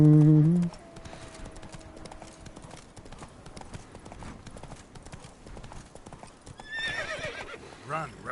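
A horse gallops in The Witcher 3 with rapid, steady hoofbeats, and a loud whinny breaks in near the end. A short tonal sound opens the passage, and game sounds play under the hooves.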